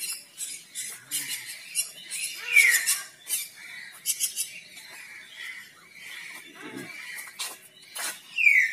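Hill mynas calling in an aviary at Lucknow zoo, sharp whistled squawks and chirps scattered through the scene with distant background chatter and ambient noise.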